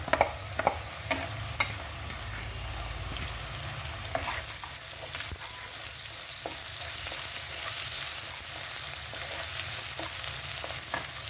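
Sliced onion, ginger and garlic pieces fry with a pinch of salt in a pan for a brinjal masala curry, an even sizzle with a few sharp utensil taps early on, no voices.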